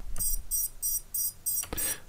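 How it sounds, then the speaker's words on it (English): Small buzzer on an Emax Tinyhawk Freestyle 2 drone beeping in a steady run of five short, evenly spaced high-pitched pulses, close and moderately loud. "now when I throw my SH, I get the beeper."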